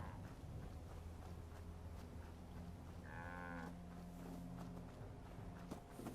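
Cattle on a small farm in Fallout 4 give a single long, drawn-out moo midway through, heard against a steady low background hum with faint footstep-like thuds and no talk.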